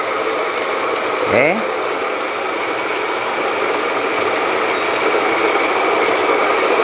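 An Almaz electric coffee grinder grinds coffee beans in a loud, steady whirring drone that holds unbroken throughout, and a voice briefly speaks near the start.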